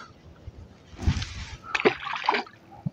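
A released fish makes a small splash in water, followed a moment later by a brief second slosh; quiet and close.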